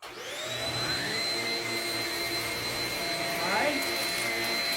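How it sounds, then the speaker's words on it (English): A Shark Rocket corded stick vacuum cleaner runs steadily on carpet with a high, continuous motor whine that rises briefly, and a voice speaks over it. "now, with the Shark Rocket Coated Stick Vacuum Cleaner, let's see how it does"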